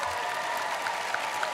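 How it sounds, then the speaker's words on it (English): Crowd applause at a Minecraft convention costume contest, a dense, even wash of clapping heard from a distance, fairly faint and steady, with a few faint higher tones over it. "give them a big round of applause"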